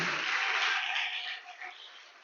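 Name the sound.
congregation clapping loudly to glorify God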